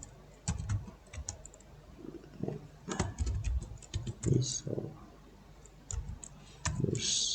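Keys clatter on a computer keyboard in irregular bursts of close, crisp clicks with short pauses between them, typed as a file-export name while saving an image in MS PowerPoint.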